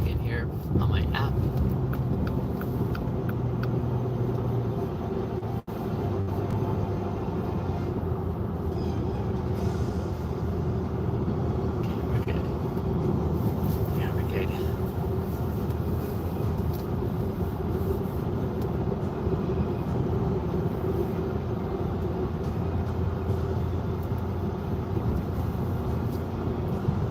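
A car driving along a road on an Uber ride, heard from inside: a constant low road and engine rumble throughout, with a person talking over it.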